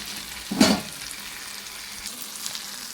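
Turmeric and curry masala powder sautéed in a pan for a fish-free kuzhambu masala, one short sizzling stir burst near the start, then a quiet low hiss of frying with a faint clink later.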